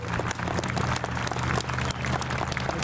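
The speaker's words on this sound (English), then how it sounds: "please give a big round of applause for the reenactors and the military vehicle owners" Outdoor wartime-themed event crowd applauding reenactors and military vehicle owners, a steady, dense wash of clapping that holds at full strength throughout, with no voices standing out.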